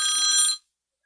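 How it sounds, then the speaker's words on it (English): A phone rings with an incoming call during a live morning show, a single bright electronic tone lasting about half a second before cutting off to silence. "Phone call. Let me see what this is."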